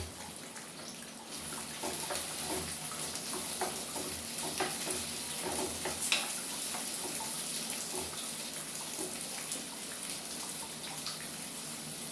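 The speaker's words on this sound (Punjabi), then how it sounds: "ਇਧਰ ਨਾਲ ਆਇਲ ਗਰਮ ਤੇ ਆਪਾਂ ਪਾ ਦਿੰਦੇ ਇਹਦੇ ਵਿੱਚ ਪਿਆਜ਼" Onions frying in hot oil for a tadka, a steady soft sizzle and crackle held at low volume for the whole stretch, with no talk over it.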